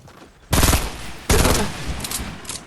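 Two loud bursts of rapid gunfire from a Fortnite match, the first at about half a second and the second near 1.3 seconds, each with a clattering tail and then a quieter reverberant decay.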